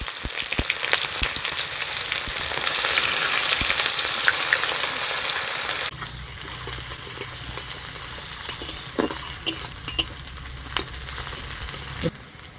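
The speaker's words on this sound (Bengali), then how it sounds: "পেঁয়াজ হাফ ভাজা হয়ে গেছে," Chopped onions, with bay leaf and five-spice seeds, fry in hot oil in a pan with a steady, close hiss that eases partway through, broken by occasional clicks of stirring.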